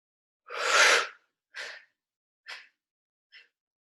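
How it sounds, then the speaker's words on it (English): Breathing exercise in the Wim Hof method: a long forceful breath followed by three shorter, fading breaths, close to the microphone in a quiet room. "Let's do one more big inhale and exhale."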